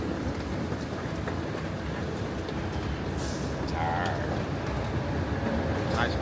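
A train in Kuala Lumpur, Malaysia rolls steadily along the rails, with a continuous broadband rumble and occasional faint squeaks and rattles from the carriage.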